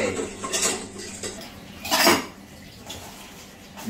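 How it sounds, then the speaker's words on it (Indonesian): Plates and dishes clink and clatter as they are handled, with a few sharper knocks amid a steady wash of background noise and no speech. "Nah, ini piring."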